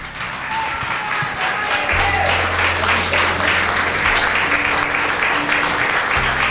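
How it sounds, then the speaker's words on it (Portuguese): A church congregation applauds loudly and steadily, a dense, sustained roar of many clapping hands filling the hall over a low, constant hum. "receba o homem de Deus com as palmas bem forte"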